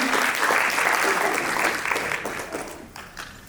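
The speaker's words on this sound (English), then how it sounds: "A big round of applause for Agam Darshi" A festival audience at an iSAFF 2025 fireside chat applauds Agam Darshi coming onto the stage, a full, even wash of clapping from a large crowd that slowly thins toward the end.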